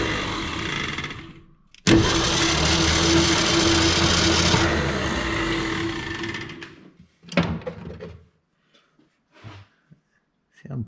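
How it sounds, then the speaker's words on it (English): A 1966 Ford F100 that sat for 30 years cranks over with its starter for several seconds, a loud steady churning that stops abruptly, followed by a few brief clanks and quiet handling noises. "that turned over a lot quicker than I thought"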